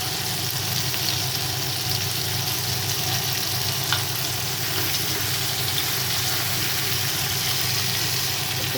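Onion, nigella seeds and green chillies frying in oil in a home Bengali kitchen, a steady close sizzle with a low hum beneath, unbroken and alone with no talk.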